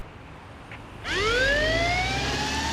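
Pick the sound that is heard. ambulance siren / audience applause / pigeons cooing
ambulance siren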